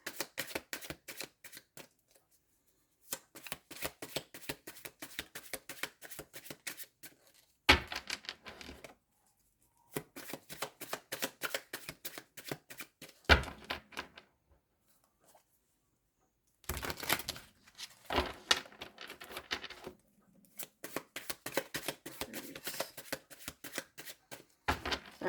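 Tarot cards being shuffled by hand, bursts of rapid riffling clicks and flutters separated by short silences, close and fairly quiet, with a few sharper slaps as the deck is squared.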